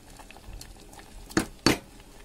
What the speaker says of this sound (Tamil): சௌச்சௌ இந்த பருப்போட சேர்ந்து வேகட்டும்.